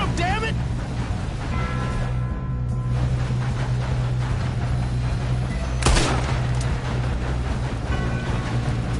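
Gunfire in the video game Red Dead Redemption 2 during a train robbery, a single sharp shot cutting through busy game ambience and rumble while people talk throughout.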